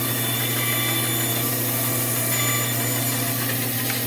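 A bandsaw cuts steadily through wood with a constant loud motor hum and blade hiss, running unbroken throughout with no voices.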